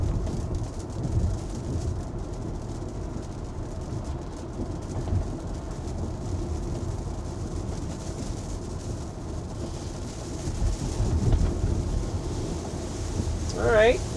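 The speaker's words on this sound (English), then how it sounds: "starting to get a little bit more rain here" Rain patters on a moving car during a drive, heard as a steady low rumbling wash of road and rain noise with faint wiper-like sweeps, continuous and moderately loud with no talking.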